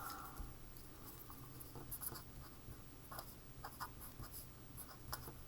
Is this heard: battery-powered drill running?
no